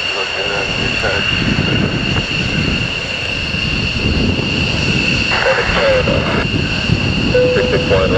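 Four F-15 fighter jets from Lakenheath depart RAF Mildenhall, their roar a constant loud wash of engine noise with sustained whining tones, while voices talk over it.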